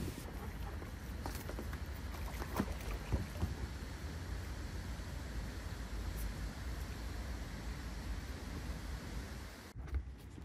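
Continuous wash of water and wind noise around a small Anfibio packraft, with occasional soft splashes from paddle strokes, no voices.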